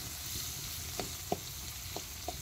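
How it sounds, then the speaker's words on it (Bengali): Onion, green chili and coriander leaves stirred in hot oil outdoors at a field picnic, a steady close sizzle with a few sharp clicks of a spoon against the pan. "তেলটা গরম করে নিয়ে পেঁয়াজ কাঁচামরিচ ধনিয়া পাতা দিয়ে নাড়িয়ে নিচ্ছি"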